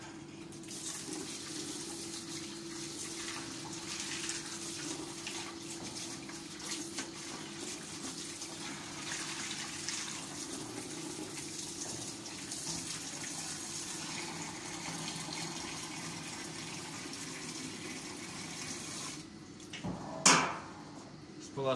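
Running water pours steadily into and over the removed water tank of a Kaffit K95 coffee machine as it is rinsed, a constant close splashing flow that ends with a brief clatter near the end.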